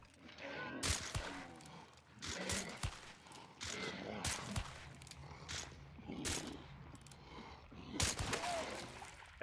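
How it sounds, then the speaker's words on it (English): Sharp gunshots crack through a Hunt Showdown match, several separate reports at irregular intervals, some close and loud, others more distant, over faint background movement. "Shots fired south"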